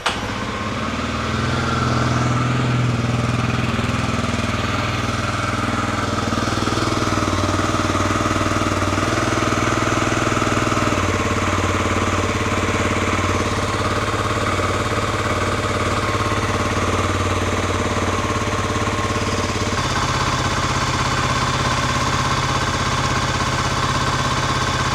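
A Kawasaki KLX300 motorcycle engine idles steadily after an oil change, a loud, continuous low throb with a slightly knocking texture that holds even throughout, with no voices.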